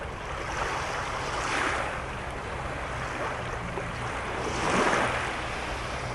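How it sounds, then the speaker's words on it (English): Sea waves along the Kuşadası seafront in Turkey, a steady broadband wash of surf with two slow swells of louder breaking water, mixed with some wind rumble and no voices. "And you hear the sea, the sound of the sea."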